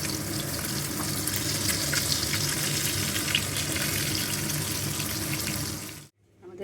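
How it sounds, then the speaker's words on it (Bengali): Boiled eggs fry in hot oil with spices, producing a steady, dense sizzling hiss that holds evenly before cutting off abruptly near the end. "আমি এইভাবেই ডিম ভাজি"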